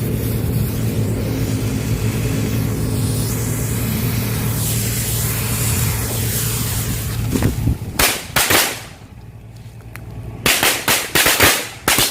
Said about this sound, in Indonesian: itu dia tadi petasan satu gepok